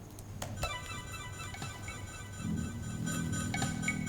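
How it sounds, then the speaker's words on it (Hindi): A phone rings with a melodic electronic ringtone in an indoor drama scene. The tones repeat steadily at moderate volume, and a low murmur rises partway through. "फ़ोन बज रहा है, उठा लो।"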